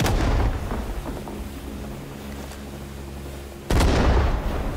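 Two heavy grenade blasts in Rising Storm 2, a loud close boom at the start and another after a rumbling lull, each a sharp low-heavy crack that rolls away.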